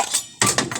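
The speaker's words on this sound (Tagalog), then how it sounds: "natagag ang plato" A plate clatters down, a sudden bright ceramic crash followed by a quick rattling bounce, close and loud in a quiet room.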